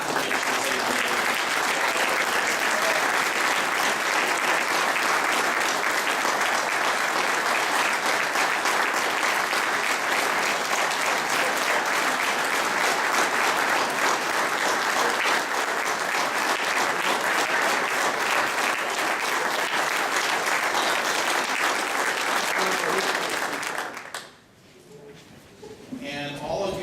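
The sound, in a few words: audience applause for Labor Hall of Fame inductees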